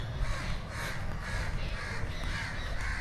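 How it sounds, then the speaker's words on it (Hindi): Several crows cawing near a banyan tree in Patna, repeated harsh calls overlapping close by over steady outdoor background noise. "यहाँ पे कौवे भी बहुत ज़्यादा है भाई"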